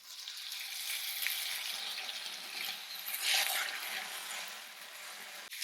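Thin stream of tap water running into a jar of leftover marinara sauce in a home kitchen, a soft steady hiss with a brief louder gurgle midway.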